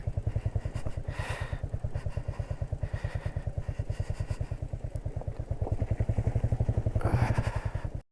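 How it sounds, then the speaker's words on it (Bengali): A motorcycle engine thumps in a fast, even rhythm as the rider crosses water on a mountain road on a trip from Kolkata to Nepal. The engine sounds close and steady, with light splashing and clatter and no talk over it. "এর মধ্যে দিয়ে বাইক চালাচ্ছি দেখো"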